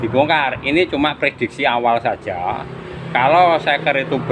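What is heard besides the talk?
No everyday noise stands out behind the speech.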